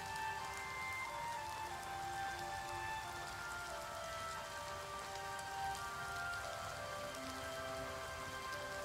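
Rain falls steadily in Oblivion Remastered, a soft, even patter of drops on surfaces that continues unbroken under faint tonal game ambience, quiet and distant, with no talking.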